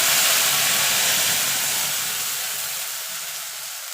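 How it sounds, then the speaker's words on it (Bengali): Whole spices and bay leaves hitting hot oil for a tempering, a loud bright sizzle that bursts in at once and then slowly settles into a steady hiss. "গোটা দিলে ফোড়নটা একটুখানি ভাজা ভাজা করে নেব"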